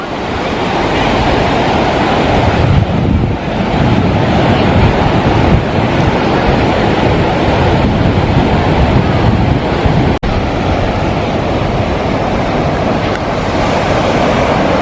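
Ocean surf roars steadily with waves washing in and out on a Vietnamese beach, mixed with strong wind buffeting the microphone.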